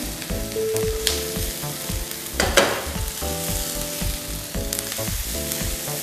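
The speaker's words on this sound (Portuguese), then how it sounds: "Tô acabando de refogar" Onion sautéing in a pan until golden, a close, steady frying sizzle with occasional stirring scrapes, while soft tonal background music plays underneath.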